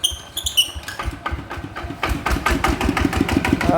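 A repaired 110cc motorcycle engine cranks with a few uneven mechanical knocks, then catches and runs in a steady, close, fast idle that grows slightly louder toward the end.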